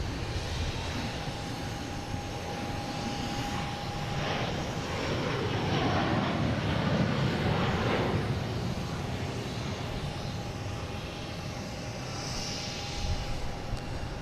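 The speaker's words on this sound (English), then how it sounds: "So we got this guy landing. And it's the third A330." An Airbus A330 airliner landing at Boston Logan International Airport gives off a steady, fairly distant jet engine roar that swells in the middle and then settles into a sustained rumble.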